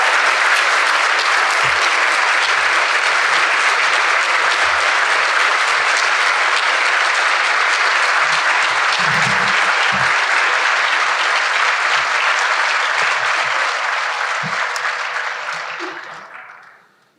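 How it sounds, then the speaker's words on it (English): An audience at Hampton's 2022 State of the City Address gives students Joshua and Sarah a long, dense round of applause, steady and loud throughout before tapering off at the end. "I think it warrants another extended round of applause."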